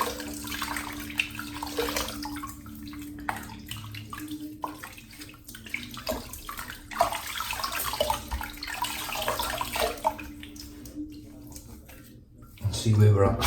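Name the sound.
water running while rinsing a razor in the sink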